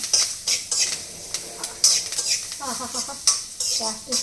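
Sputtering sizzle of curry leaves and chillies hitting hot oil for a tomato saaru tempering, with sharp crackles and scraping stirs against a pan, close and fairly loud.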